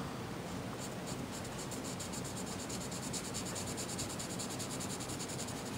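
A Chameleon marker colors a paper coloring-book page, making continuous scratchy nib strokes close up. The strokes are steady and unbroken, with no voices.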